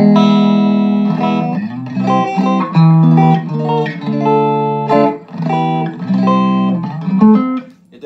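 A guitar through a 1960s Audio Guild amp plays a series of ringing notes and chords with a clean, bright tone, loud and close, phrases separated by brief pauses.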